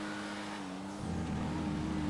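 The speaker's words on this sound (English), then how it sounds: "And a slightly bassier engine note than the GTO," A car engine growls in the racing video game GTA Online, a deep bassy guttural drone that steps up in pitch and intensity as it revs, close and continuous with no talk.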